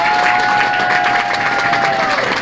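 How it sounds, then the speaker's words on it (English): An audience at a political action committee's annual debate claps steadily for the people being honoured, a dense, even wash of applause with a faint sustained tone running underneath. "Let's give a round of applause for all these people."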